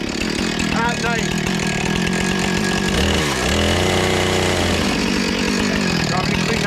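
A chainsaw-like power saw cuts wood at night during an off-grid cabin build in the Northern Rockies, a loud continuous buzzing whine that dips briefly mid-cut and picks back up.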